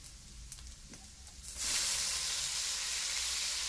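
Bagoong alamang shrimp paste dropped into a hot pan with okra, quiet kitchen noise that suddenly bursts into a loud, steady sizzling hiss, no voices.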